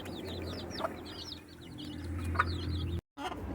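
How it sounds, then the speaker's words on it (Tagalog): Many baby chicks peep in rapid, high chirps alongside lower hen clucks in a farmyard brood, close and busy with a steady background hum and a brief dropout near the end, with no talk. "31 na sisiw."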